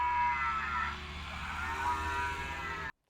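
A novelty cow-moo horn sounds on Maddie Moo, a Volkswagen T5 camper van with distinctive styling and a roof box, giving a loud, sustained mooing bellow for about three seconds before cutting off abruptly.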